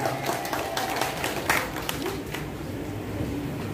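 A short burst of audience applause for the women at a bank staff farewell event, scattered clapping from a crowd that continues steadily at moderate volume before tapering slightly.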